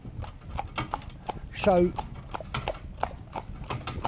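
A harnessed pony's hooves clip-clop at a steady walking rhythm, close and moderately loud, with a brief whinny-like sound in the middle while people talk over it.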